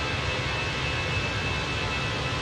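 Airliner in Microsoft Flight Simulator roaring down the runway on takeoff at Kathmandu, a steady loud jet engine rush with broadband hiss and a faint whine holding level throughout.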